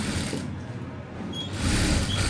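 Sewing machine stitching around the neck of a back-open, front princess-cut blouse with lining, a close, steady mechanical whir that dips briefly in the middle and then runs again.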